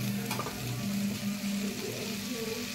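Frying masala in a pan sizzles and hisses steadily as water is poured in, a close, continuous bubbling with stirring noises and no talking.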